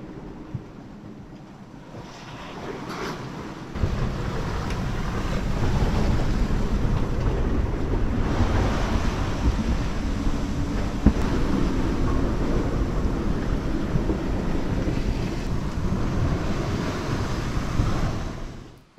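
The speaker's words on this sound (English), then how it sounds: "the sounds of the waves slamming against the hull" Heavy, continuous rush of waves slamming against a sailboat hull in heavy weather on the open Pacific, with wind noise and occasional thuds, loud and steady throughout.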